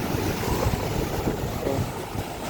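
Big sea waves wash onto a shore in a continuous broadband roar mixed with wind noise, steady and fairly loud throughout, with no voices.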